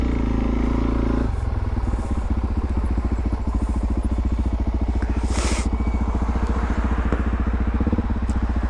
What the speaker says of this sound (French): Ah là là, ces motos qui démarrent pas, qu'est-ce que c'est énervant.